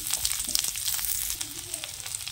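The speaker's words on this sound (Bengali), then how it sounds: "পেঁয়াজ আর কাঁচা লঙ্কাটা একটু ভেজে নেব।" Chopped onion and green chili fry in mustard oil in a wok with a steady close sizzle and crackle and occasional stirring scrapes, without talk.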